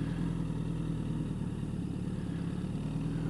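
A motorcycle engine runs at a low, steady idle-like rumble as the clutch is let out with no throttle, an even mid-pitched drone close by with no rise in revs.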